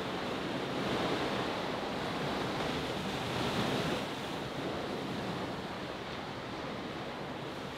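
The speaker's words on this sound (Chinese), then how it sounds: "一上阳台，那海浪声更是不绝于耳。" Ocean surf rolling onto a sandy beach below a seaside hotel balcony on Maui: a steady, moderately distant roar of breaking waves with some wind rumble and no talking.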